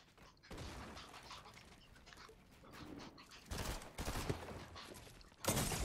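Gunfire in Fortnite, bursts of rapid shots in uneven clusters, with a loud volley near the middle and a sharp final burst at the end, over a quieter game background.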